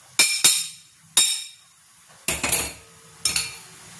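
A metal spoon stirring zunka of roasted gram flour, semolina and coriander in a kadhai, giving five sharp, close clanks at uneven intervals with quiet gaps between and no voices.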